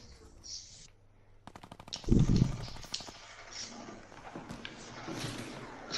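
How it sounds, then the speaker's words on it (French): Fortnite gunfire in a trio match at Tilted: rapid bursts of automatic shots crackle in and out over game ambience, with one loud cluster early and lighter shots trailing after. "Oula, ça tire à mort là"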